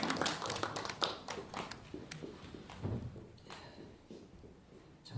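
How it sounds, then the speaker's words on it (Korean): Scattered, uneven hand clapping from a church congregation welcoming a preacher, sparse individual claps rather than a full ovation, fairly quiet with some shuffling. "나오실 때 우리 격려하는 마음으로 박수하도록 하겠습니다."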